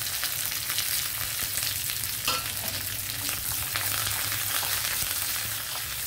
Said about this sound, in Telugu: అదిగో వెల్లుల్లి వేగాక జీలకర్ర ఆవాలు వేసాను, ఎండుమిర్చి చేశాను, అలాగే కరివేపాకు